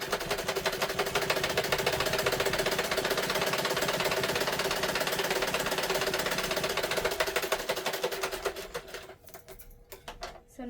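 A sewing machine runs steadily for about eight seconds, stitching down the centre of a children's umbrella frock, with a fast even mechanical clatter before it slows and stops near the end.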